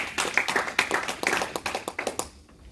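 A church congregation at an evangelist's French sermon claps in quick, loud, irregular bursts, a few brief voices mixed in, then fades sharply at the end.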